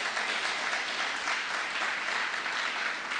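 Church congregation applauding to acclaim the Lord, a steady, dense wash of clapping from many hands lasting throughout without a break.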